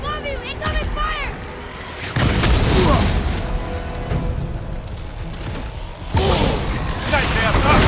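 Incoming fire explodes in God of War: heavy booms and rumbling blasts rolling on through the scene, loud and close, with shouting voices and battle noise on top.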